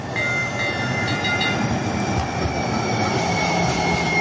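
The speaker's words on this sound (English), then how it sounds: "Now at 5:15 in the evening, here comes the Green Line train" A Green Line light rail train arrives at an evening station, with a continuous heavy rumble of wheels on track and high metallic squeals and tonal whines layered over it, loud and close.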